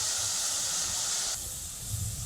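Papaya juice hits a very hot wok and sizzles with a steady, bright hiss that dips slightly partway through, with nothing else heard.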